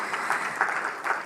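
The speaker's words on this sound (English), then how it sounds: "Another round of applause for Bwana Waziri" An audience at the KRA 30th anniversary celebration applauds a cabinet secretary, a brief, fairly quiet wash of steady clapping from a large crowd with a few sharper claps standing out.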